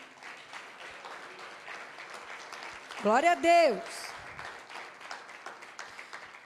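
A church congregation applauds steadily throughout while a voice calls out loudly over the clapping midway.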